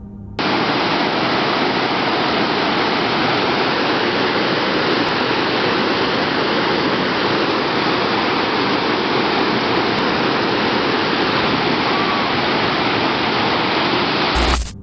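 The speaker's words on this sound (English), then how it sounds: "the happy sound of the waterfall seemed to carry a strange," Waterfall pouring in a continuous broadband rush, loud and steady throughout with no voices or breaks.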